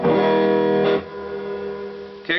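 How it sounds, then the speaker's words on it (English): Two sustained chords on a Peavey EXP Limited electric guitar ring out, clean and distorted tones mixed, the first decaying with a reverb tail before a new strum at the end. "clean and dirty mixed a little bit with a little bit of reverb"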